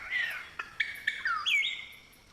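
A palm cockatoo calls in Australian rainforest, giving a short run of close, clear whistled and chirping notes in quick, uneven succession with no voices.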